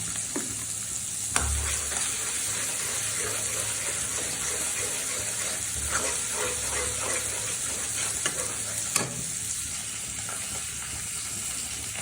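Onion, garlic and ginger paste fry steadily in oil for a mustard fish curry, a continuous close sizzle with occasional louder stirring scrapes and clatters, no talking.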